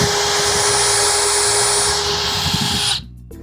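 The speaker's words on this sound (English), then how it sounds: "So what I'm going to do is just drill a couple of holes in the top here." A power drill whines steadily and loudly as it bores holes into the top of a wooden drill holder, then cuts off abruptly near the end, leaving a few faint clicks.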